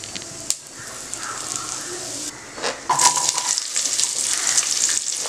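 Mustard seeds, cumin, fenugreek and asafoetida hit hot sesame oil in a pressure cooker, giving a steady bright sizzle with scattered crackles and pops that grow louder and busier partway through, with no talk over it.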